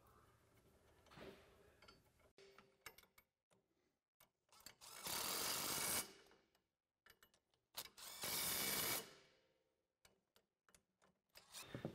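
Lug screws are driven in to fit a wheel spacer, with two loud bursts of a power tool whirring separated by scattered clicks, ratcheting and metallic handling noises, recorded close and otherwise quiet.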